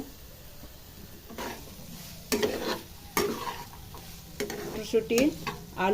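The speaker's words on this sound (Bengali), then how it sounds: "মটরশুঁটি দিয়ে ভালোভাবে নেড়ে নিব।" A spoon scrapes and stirs potatoes and peas with spices in a hot pan. Irregular scraping strokes run over a soft steady sizzle close by.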